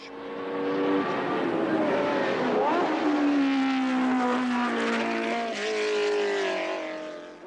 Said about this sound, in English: Further back, battling for third place, come Rindt and Stewart, with Brabham as the filling in the sandwich